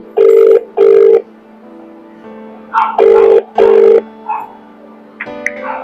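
A telephone rings in loud, repeated double bursts of a bright electronic tone, with short pauses between rings and a faint hum beneath.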